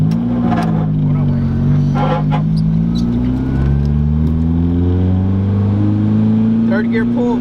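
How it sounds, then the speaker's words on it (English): A boosted Nissan 240SX makes a third-gear pull on a street in Mexico. The loud, droning engine climbs steadily in pitch without a break, heard close as from inside the car, with a few faint clicks and knocks. "Third gear pull."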